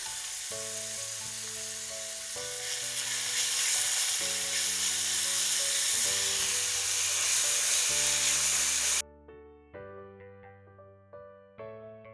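Garlic and ginger paste frying with onions in a pan for a Nepali mixed vegetable dish, with a loud, steady sizzle under tonal background music that cuts off near the end, leaving only the music.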